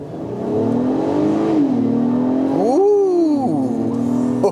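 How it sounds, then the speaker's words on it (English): A 2022 Acura MDX's VTEC V6 revs up hard under full throttle, pitch climbing through gears with a brief dip and surge, loud and close, no talking. "I love the way that a VTEC V6 sounds. This is a really throaty engine."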